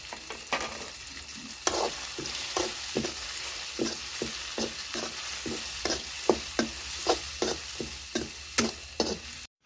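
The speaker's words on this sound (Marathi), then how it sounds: "लसूण आणि अद्रक पण भाजून घेते आणि खोबरं आहे ते पण थोडंसं खोबरं टाकले ते पण त्याच्यातच भाजते" Garlic, ginger and coconut roast in a pan for misal, a soft sizzle under a steady run of sharp spatula scrapes and taps, regular and close, growing a little brisker toward the end.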